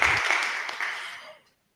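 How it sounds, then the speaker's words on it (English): Audience hand clapping at an art show opening, a brief burst of applause that fades out within about a second and a half. "So hand clap, congrats to all of you guys."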